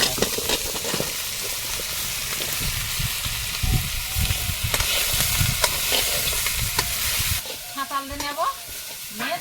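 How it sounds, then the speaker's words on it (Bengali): Prawns fry and sizzle in a pan, a continuous loud, close crackle with scraping stir strokes, easing near the end into quieter bubbling with a few short tonal chirps. "চিংড়ি মাছ কিন্তু ভাজা করবো এতেই দিয়ে দেবো"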